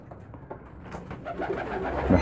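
Soft, throaty homing pigeon coos repeat close by, mixed with rustling, and grow louder toward the end.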